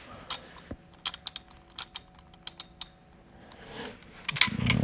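Wrench clicking while a bolt is removed during a horn install on a Can-Am Ryker: several quick bursts of sharp, close ratcheting ticks, then softer rustling and handling noise toward the end.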